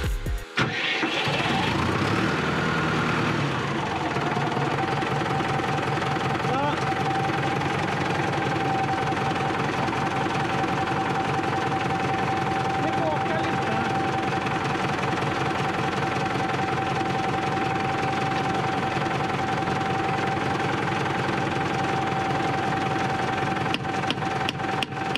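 A Valtra N101 tractor engine cranks and catches, then settles into a steady, loud diesel idle with a constant tonal hum and knocking rumble that runs unbroken to the end, with no talk.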